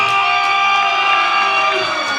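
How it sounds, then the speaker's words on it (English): A wrestling crowd at a Hybrid School of Wrestling show roars and cheers loudly for champion Casey Blackrose in a sustained, dense wall of voices with scattered whoops. "the crowd roaring their approval"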